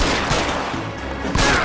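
Gunshots fired in the police detective game L.A. Noire during a foot chase, coming as a quick burst of loud, booming reports close together over a short span.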